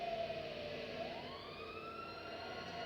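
A fire truck siren in the video game GTA V wails steadily, its tone sliding upward midway, heard faintly and at a distance over low engine rumble.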